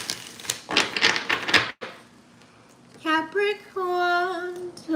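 Tarot cards shuffled by hand in a quick burst of papery riffling, then a pause before a person starts talking.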